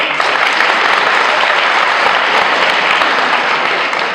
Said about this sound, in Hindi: यदि आप लोग चाहते हैं तो एक बार आप ताली बजा दें।